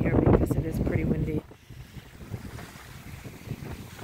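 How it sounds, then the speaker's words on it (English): A loud gust of wind thumps against the microphone, then eases into a softer, steady rushing noise. "hopefully you can hear me because it is pretty windy"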